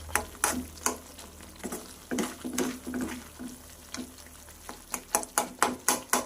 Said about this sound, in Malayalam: ഇത് നമ്മൾ ഉരുകി തീരും വരെ ഇളക്കിക്കൊണ്ടിരിക്കണം